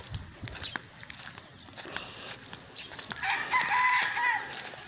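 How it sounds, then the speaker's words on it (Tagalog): Backyard flock of chickens with a rooster, clucking and crowing at moderate distance outdoors, with a brighter, louder crowing burst in the second half over scattered footsteps. "Ayan, ayan pa po mga manok ko."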